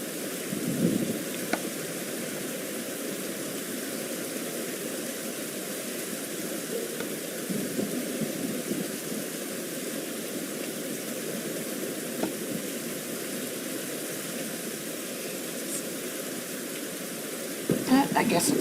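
Rain hisses in a steady wash while thunder rumbles low in the background, with occasional sharper cracks and a louder burst near the end, fairly even and moderate in level, with soft talk faintly present.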